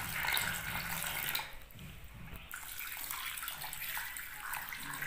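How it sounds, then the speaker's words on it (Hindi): Water gushes steadily into a vessel, a close, hissing pour that briefly pauses and then resumes, with no talking. "ये डाल दिया इसमें हमने पानी।"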